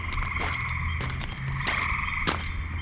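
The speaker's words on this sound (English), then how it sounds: "That's the sound of bullfrogs" Bullfrogs call on a summer night in Pennsylvania, a dense ongoing chorus with sharper croaks breaking through at intervals over a low steady drone.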